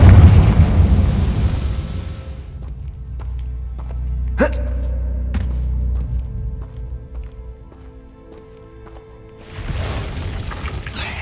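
A Confringo fire spell bursts in Hogwarts Legacy inside a tomb, a loud booming blast that opens the scene, then a sharp crack mid-way and a lingering rumble before another surge of noise at the end.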